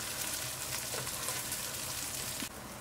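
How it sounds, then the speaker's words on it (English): Sliced shallots and green chilies fry in a pot with a steady, moderately quiet sizzle and crackle, a brief scrape of stirring near the end, and no talking. "sliced shallots and green chilies into the pot and fry them for 2 minutes"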